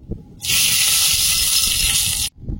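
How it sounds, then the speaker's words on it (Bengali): Dried red chilies, broken in half, dropped into hot oil and hissing loudly in a single steady burst lasting about two seconds, then stopping abruptly. "তেলে 2 শুকনো লঙ্কা হাফ করে দিয়ে দেব।"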